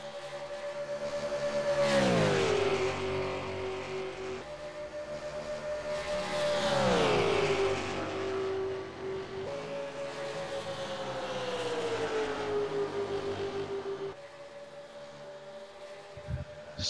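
AUSCAR race car engine lapping the Kansas oval, droning loudly as it passes, with the pitch sweeping down in repeated waves as the car comes by and pulls away, steady and continuous.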